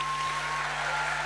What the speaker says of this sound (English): Huge round of applause for Karan Johar.